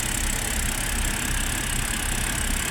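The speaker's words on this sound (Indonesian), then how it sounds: "Halus mesinnya." BMW F10 523i engine idling steadily after starting, a close, even rumble with a smooth low throb that holds unchanged throughout, with no voices.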